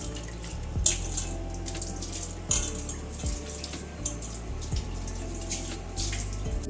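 Tap water runs steadily into a sink as sliced potatoes for chips are rinsed, with a continuous splashing stream and occasional louder clunks and splashes of handling, no talking.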